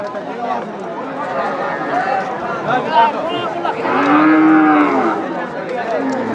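Cattle moo loudly and repeatedly at a cow market in Panchagarh, with long drawn-out lowing calls close by and people talking over the crowd noise.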